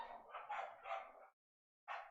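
Dogs bark in a muffled cluster of yaps in the background, pausing briefly before another short burst, with no talking over them.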